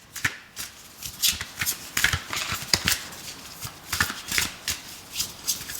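Oracle cards shuffled by hand during a Pisces reading, a steady run of crisp riffling and slapping bursts, close and fairly loud, with no voices.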